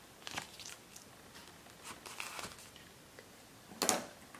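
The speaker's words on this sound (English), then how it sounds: "Clear contact paper." Clear contact paper rustles and crinkles as it is handled, with soft scattered crackles throughout and a louder crinkling burst near the end, close and quiet, no voices.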